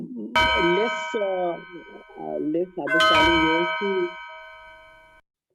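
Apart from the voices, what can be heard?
bell rung to signal speaker's time is up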